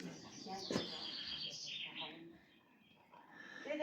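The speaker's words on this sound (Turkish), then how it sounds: "Yavru kuşlar." Baby birds in a nest at a village in Gölköy, Ordu, give faint high chirps and peeps in short bursts, under close talk.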